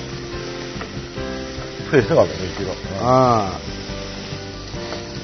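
Chicken pieces fry skin-side down in a pan with no added oil, giving a steady sizzle as fat and moisture render out, while people talk over it at close range.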